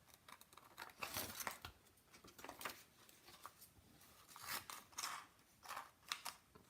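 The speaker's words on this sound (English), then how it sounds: "Grab my scissors and cut this beautiful little rosebud out." Scissors snip through a paper rosebud transfer, giving close, crisp cuts in irregular bursts with brief pauses and faint paper rustling between them.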